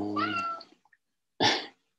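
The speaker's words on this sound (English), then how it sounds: "cat." A cat meows twice close by, first a clear tonal meow and then a shorter, harsher one, with a brief third sound cut off at the end.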